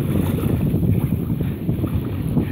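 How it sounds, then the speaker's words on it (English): Strong wind buffeting the microphone while kayaking on choppy sea water near Mamam Beach, Pulau Ubin, a loud continuous low roar and rumble, close and steady throughout, with no voices. "the wind is insane"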